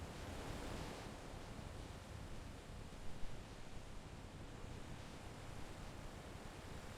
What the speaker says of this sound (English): Standing on the coast of Ghana, overlooking the vast Atlantic Ocean